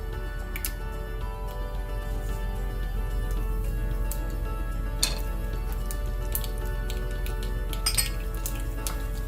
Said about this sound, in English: As the mustard splutters, we're going to add fresh curry leaves, and these splutter quite a bit in oil.